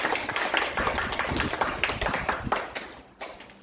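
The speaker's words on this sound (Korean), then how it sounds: "이쯤에서 박수 치는 게 어때?" Audience applause at a Daejonggyo religious lecture in Korea, a dense steady clatter of many hands clapping throughout, moderately loud, easing slightly near the end.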